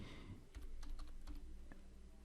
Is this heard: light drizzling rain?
no